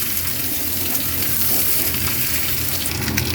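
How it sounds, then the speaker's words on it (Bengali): Hog plums frying in hot oil for a homemade pickle while being stirred: a loud, steady, close crackling sizzle that fills the whole stretch without a break. "এবার তাহলে আমড়াটা আমি দিয়ে দিলাম, জাস্ট একটুখানি নাড়াচাড়া করছি।"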